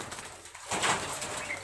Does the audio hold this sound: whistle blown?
no